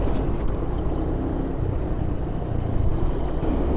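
Bus passing on a rough, potholed rural road, a steady loud low rumble of engine and tyres close by, broadband and continuous without talk.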